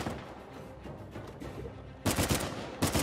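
Gunfire in Uncharted 4: a low rumble of game ambience, then two loud, close bursts of rapid shots, the second one short and cut off at the end.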